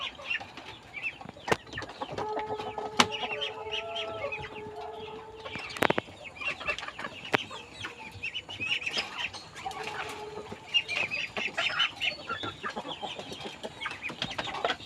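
Hens and ducks on a farm at feeding time, with scattered clucking and cackling calls over a steady background of rustling, bird chatter and occasional sharp knocks, fairly close and moderately loud throughout.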